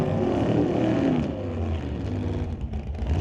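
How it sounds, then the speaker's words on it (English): Drag racing cars finishing burnouts at a test-and-tune event on the strip, a loud, rough engine roar that eases off and drops lower after the first second, heard from a distance. "As Terry Charles and Robin Rowe Sr. complete their burnouts"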